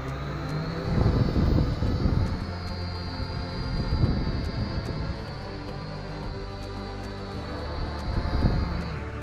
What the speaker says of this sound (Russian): попробую запустить квадрокоптер